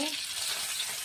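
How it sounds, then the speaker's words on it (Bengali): Bele fish frying in hot oil, a loud, steady, dense sizzle filling the short stretch without pause and with no talking over it. "মাছটা ভেজে নেব।"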